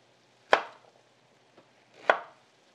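A knife chops Brussels sprouts on a cutting board in a home kitchen, two sharp, close chops about a second and a half apart with a faint tap between them.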